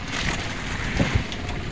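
A fishing boat's double engine runs at sea during night fishing for scabbard fish, a steady rumbling drone mixed with wind buffeting and wave wash, with a couple of brief knocks and no talking.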